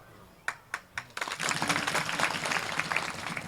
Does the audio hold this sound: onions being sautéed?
no